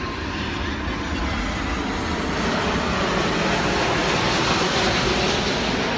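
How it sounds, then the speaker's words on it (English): An airplane passing overhead near a Tim Hortons during an outdoor convention weekend, a loud, steady broadband engine roar that holds for several seconds without fading. "our wonderful planes that keep passing by every once in a while"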